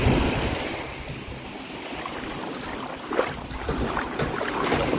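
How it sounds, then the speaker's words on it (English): Waves wash steadily onto a rocky beach in Jamaica, a continuous surf roar with gusts of wind buffeting the microphone and a slightly stronger surge near the end. "We're just enjoying a little beach down here"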